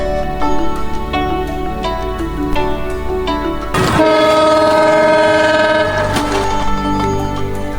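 A train crosses the Hardinge Bridge, an iron railway bridge over the Padma River, sounding a loud, sustained horn blast up close over the rumbling roll of wagons, with no voices.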